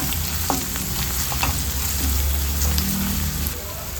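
Finely chopped curry leaves are fried in a pan, producing a loud, dense, close sizzle with a few spatula scrapes and taps over a constant crackling hiss.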